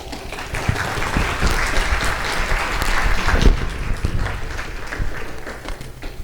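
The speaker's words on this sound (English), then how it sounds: "Please join me in welcoming Ms. Bari with a round of applause." A round of applause at an interfaith Ramadan program welcoming a speaker, sustained crowd clapping with dense sharp claps that swells mid-way and stays loud, with little talk over it.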